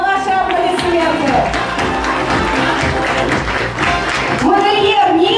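Audience applause for a guest at an awards party, a steady, dense wash of clapping that holds from start to finish under a loud announcer's voice and music.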